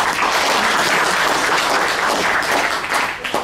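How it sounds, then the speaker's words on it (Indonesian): A seminar audience on youth entrepreneurship applauds a workshop owner, thick continuous clapping filling the room loudly and evenly before tapering slightly at the end. "Tepuk tangan untuk Mas Ponco."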